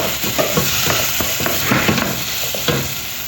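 Loud, steady sizzling in a pan as chilli powder and spices fry, with repeated scraping strokes of a spoon stirring the mixture, close up and without speech.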